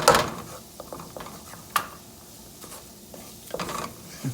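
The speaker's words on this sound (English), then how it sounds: "You gotta continuously just stir it until it's smooth and bubbly" A utensil stirs a gumbo roux in a pot for Cajun chicken, sausage, shrimp and gizzard gumbo, giving soft scraping and a few clinks over a faint sizzle, with occasional louder knocks against the pot.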